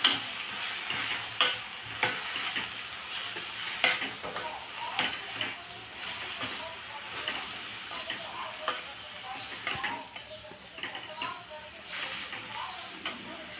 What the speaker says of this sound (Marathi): मेथी आपल्याला थोडीशी परतून घ्यायची आहे